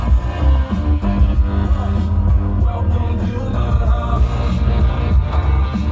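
Music plays from the stereo of a 1984 Monte Carlo SS, steady and fairly loud, with a beat and layered instruments over a low engine hum.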